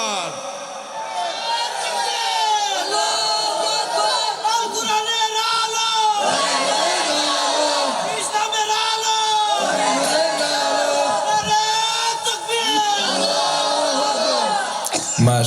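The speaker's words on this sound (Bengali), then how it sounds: "দুটো হাত টান টান করে দেখিয়ে একটা বার তাকবীর দিয়ে দেখিয়ে দাও।" Large outdoor crowd at a religious gathering in Ukhiya, Cox's Bazar, shouting takbir in repeated loud unison chants, surging and falling in rhythmic waves for the whole stretch.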